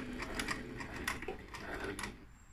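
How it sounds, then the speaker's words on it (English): A sewing machine back-stitches across jersey fabric at a knicker gusset seam, a quick run of rhythmic mechanical clatters close by, then a brief pause as it stops. "I'm going to do a little back stitch"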